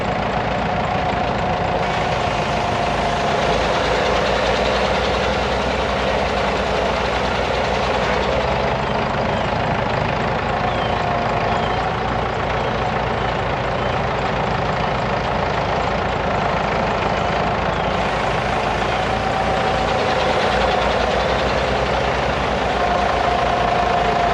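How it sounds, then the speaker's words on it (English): A heavy diesel tractor engine rumbles steadily at idle for a long stretch at a sawmill, close and loud, with a slight change in pitch partway through. "Pete's going to get the tractor, and the tractor will start"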